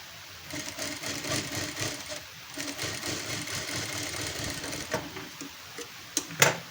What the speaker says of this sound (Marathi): डबल टीप मारून घ्यायची त्याच्यावरून